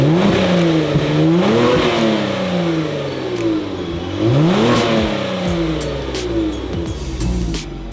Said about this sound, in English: I'm gonna go ahead and give you some sound clips what it sounds OEM.